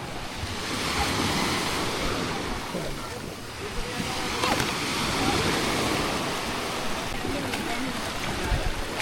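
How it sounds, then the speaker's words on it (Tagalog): Ocean waves wash steadily onto a beach at night, a dense, continuous roar of surf with wind buffeting the microphone and gentle swells in loudness throughout. "May alon kasi ngayon eh."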